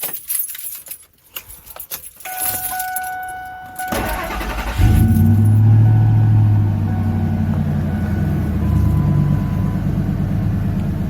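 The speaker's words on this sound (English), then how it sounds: "I figure we'll start the truck." A 1999 Ford Expedition truck is started after keys jangle in the ignition. The starter cranks briefly, then the engine catches and settles into a loud, steady idle close by.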